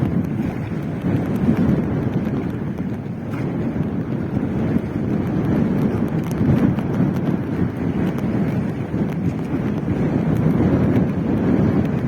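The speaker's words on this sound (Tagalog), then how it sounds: "Grabe yung hangin." Strong wind ahead of approaching rain at sea roars and buffets the microphone steadily throughout, a loud, continuous low rumble with no voices.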